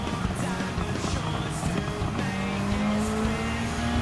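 A Toyota Supra GT500 race car in Gran Turismo 7 drives at speed with a continuous engine drone, a rising engine pitch as it accelerates, and tyre noise, with faint talk underneath.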